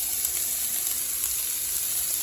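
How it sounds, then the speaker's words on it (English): Chopped scallions sizzling in hot oil in a pan, a steady, dense crackling hiss that holds evenly throughout with no voices. "I'm going to add my scallions to the oil."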